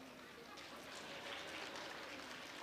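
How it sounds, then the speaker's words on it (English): Scattered audience applause at a skills summit, a soft, steady patter of many hands heard from a distance with no voices on top. "More applause."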